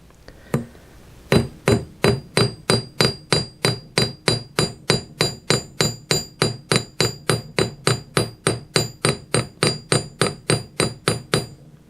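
Light hammer strokes texture a silver bracelet being forged, about thirty-five evenly spaced metallic taps with a bright ringing tone, close and steady after a single opening strike.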